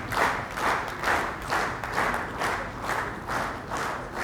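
An award ceremony audience gives rhythmic, steady applause in unison, with pulsing waves of clapping from a large crowd throughout and no speech on top.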